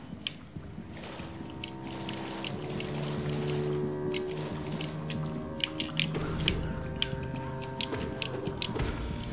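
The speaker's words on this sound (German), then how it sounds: "Das ist eine Menge Wasser, habe ich gehört." Steady running and pouring water in Hollow Knight, a continuous low splashing wash with scattered brighter drips and clicks, moderately quiet with no talking.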